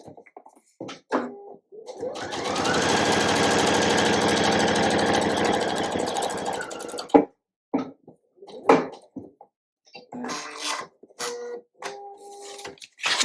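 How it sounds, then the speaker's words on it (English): A sewing machine stitches quilt block pieces in one steady run of about five seconds, a close, even mechanical whir, followed by scattered clicks and small handling knocks. "I'm going to hold the pieces in place and sew right down this next line."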